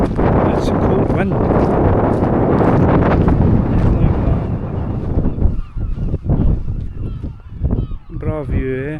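Strong cold wind buffeting the microphone on the Moray coastal trail between Cullen and Portgordon, a loud steady roar that eases into gusts, with people talking over it.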